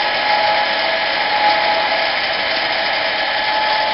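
Harbor Freight 7 x 10 mini metal lathe running while tapping a hole about three quarters of an inch deep, a loud, steady, even motor whine with no pauses or changes.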